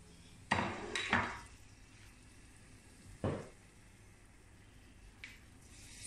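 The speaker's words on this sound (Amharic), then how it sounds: "ሽንኩርቴን ትንሽ ጠበስ አደርጋለሁ።" Onion frying in a little oil in a pot: a faint, steady sizzle close by, punctuated by a few sharp spoon-on-pot knocks and clatters.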